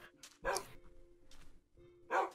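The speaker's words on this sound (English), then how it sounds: "All of my dogs just barked in unison." Several dogs in a video game bark together in two loud, clustered bursts separated by a quieter stretch, close and clear with no talking over them.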